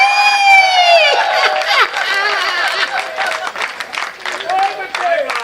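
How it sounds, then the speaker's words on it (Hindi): Audience at a comedy poetry show breaks into applause and laughter, a lively crowd wash of clapping and cheering mixed with voices and a rising whoop, close and fairly loud. "तालियां आप गलत जगह ही बजाते हैं।"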